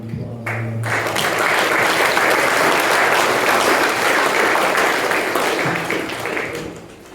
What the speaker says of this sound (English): Just want to give them a round of applause